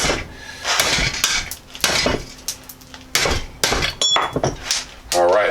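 A socket is worked off a rusted bolt on the hub and steering knuckle of a Jeep Cherokee XJ, giving close, loud metallic clanks and clinks in irregular bursts with short pauses between them.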